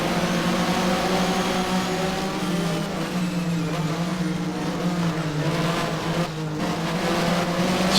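Race car engine in Race07 during a Mobil 1 Porsche Super Cup race at Brno, a steady loud droning roar with harmonic whine throughout, tire screech under braking for a turn blended into the engine noise.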